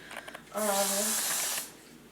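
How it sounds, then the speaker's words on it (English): A single steady hissing spray lasting about a second, close and fairly loud, after a few soft clicks. "Spray a little bit more."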